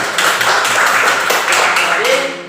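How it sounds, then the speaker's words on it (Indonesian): A classroom of students claps for a classmate in loud rhythmic bursts that fill the room, and a voice begins to speak as the clapping fades. "tepuk tangan untuk kau"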